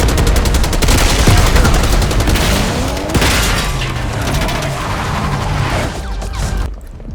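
Gunfire rattles through a Black Ops 6 cutscene assault on a palace gate, dense overlapping bursts and booming shots, loud and continuous before dropping away at the end.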